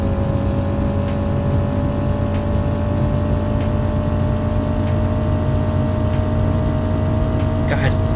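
A 1980s BMW car engine in a video game drones steadily and loudly at constant revs with a low rumble and faint rhythmic ticking, continuous throughout.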